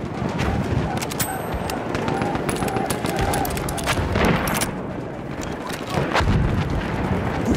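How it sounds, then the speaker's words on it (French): An enemy machine gun firing in a First World War shooter set at Soissons, dense continuous rattling bursts amid battlefield explosions and distant gunfire, loud throughout, with voices faintly underneath. "Mitrailleuse ennemie."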